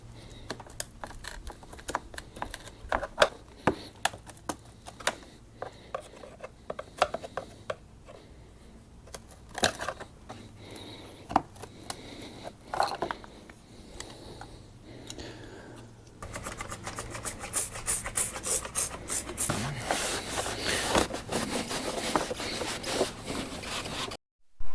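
A rasp scrapes the back side of a plastic front bumper lip on an Acura TLX, making quick, repeated close-up strokes that are scratchy and uneven, then grow denser and louder in the last stretch.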